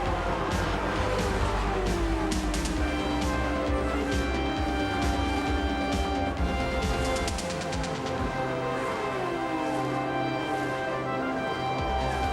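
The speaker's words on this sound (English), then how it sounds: "The defending champion sets a blistering pace, averaging more than 206 miles an hour for the first lap." IndyCar race cars scream at full speed on the opening lap of the 1990 Indianapolis 500, a loud continuous engine roar with pitch sweeps as cars pass, under a commentator's voice.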